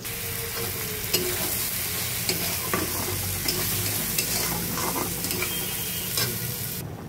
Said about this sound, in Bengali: মাছের ঝালটা এখন ফুটছে